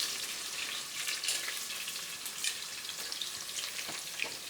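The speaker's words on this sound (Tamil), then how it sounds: "இப்போ வெங்காயத்தை எடுத்து போட்டுடலாம்." Onions frying in hot oil give a steady, close crackling sizzle with scattered small pops throughout, and no voices are heard.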